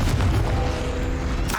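A Confringo blasting curse from Hogwarts Legacy: a single short, deep explosive thump with a rumbling low tail, close and loud.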